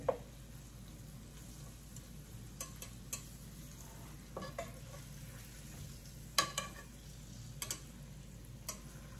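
Oxtails browning in a frying pan give a faint, steady sizzle, broken by occasional sharp ticks and clinks of utensils against the pan.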